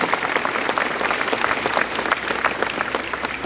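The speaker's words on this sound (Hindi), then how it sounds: "एक बार जोरदार हम अपने टीचर्स के लिए, अध्यापकों के लिए हम तालियां बजाएं।" Audience at a Republic Day event in Angul, Odisha applauds for teachers, a steady, dense burst of clapping from a large crowd that fills the whole stretch without pause.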